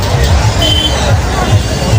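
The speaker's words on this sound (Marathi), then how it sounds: "तर खूप सारी गर्दी झालेली आहे." Dense crowd murmur at a Shivaji Jayanti procession at Kranti Chowk, a loud continuous outdoor hubbub of many voices with no single speaker standing out.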